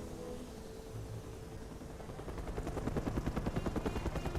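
A helicopter in the Mercenaries 2 video game drones steadily, with rapid rotor thumping building up in the second half over a noisy background. No one speaks.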